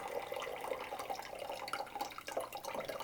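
Water carefully poured from a capped container through a bandana pre-filter, a steady soft trickle and splash running throughout, fairly quiet and heard alone.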